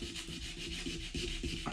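Belt sandpaper rubs back and forth against the metal bottom of a CPU cooler and hardened JB Weld, a steady close scratchy rasp in repeated short strokes.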